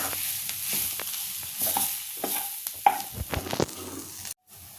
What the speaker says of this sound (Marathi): आता परत एकदा आपण छान हलवून घेऊया ह्याला.